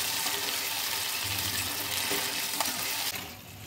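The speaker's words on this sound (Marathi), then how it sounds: "मसाला व्यवस्थित फ्राय करूया आपण।" Masala with curry leaves frying in a pan for chhole, a steady close sizzle and crackle running throughout without a break, easing off slightly toward the end.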